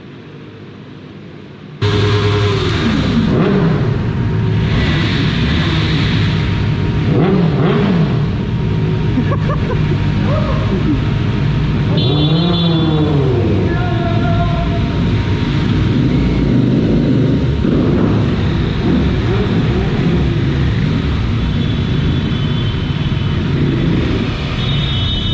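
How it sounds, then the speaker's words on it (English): Several motorbikes idle and warm up nearby before a ride, a steady loud engine rumble with occasional revs, and a brief higher whine partway through. "my bike is getting warmed up, so do other bikes"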